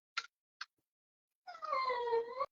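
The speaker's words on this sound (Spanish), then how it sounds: "abrirle a la perra porque está llorando" A female dog whimpers and cries nearby: two short high yelps are followed after a pause by a longer, wavering whine, loud in an otherwise quiet room.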